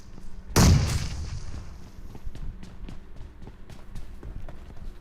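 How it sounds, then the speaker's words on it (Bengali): Gunfire in a first-person shooter game: one loud sharp blast near the start, followed by a trailing series of fainter distant shots and footstep-like taps. "গান ফায়ার শুনছি"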